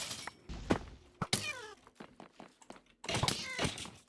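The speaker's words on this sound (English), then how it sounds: "I'm going to have to block that cat sound because it's really annoying" Meows from a cat in the modded Minecraft pack All The Mods 11, short and repeated, mixed with thuds and a voice talking over the game.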